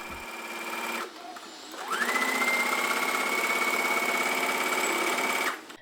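A sewing machine stitches the side seams of a gathered skirt, a close steady whirring hum with a rapid needle chatter, pausing briefly before a long continuous run that stops abruptly.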